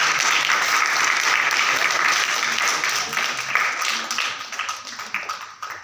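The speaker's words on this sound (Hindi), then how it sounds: "आप सबसे निवेदन है कि कृपया ताली बजाकर" An audience applauds at a Hindi-language talk or lecture event, a dense, steady round of clapping that holds for several seconds and then thins out toward the end.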